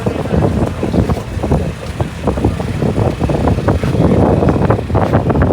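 A boat moving on the water at Sambranikodi, a steady dense rumble with wind buffeting the microphone throughout.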